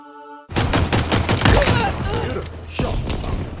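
Rapid pistol gunshots in Halo Infinite multiplayer, a dense close string of sharp shots over about three seconds, loud and punchy, followed by a final crack.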